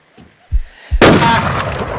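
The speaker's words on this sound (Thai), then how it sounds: "ใครยิงใครอ่ะ" Gunfire in the video game Infestation: a couple of low thumps followed by a loud, sustained burst of shot noise that stays close and dense, no talking.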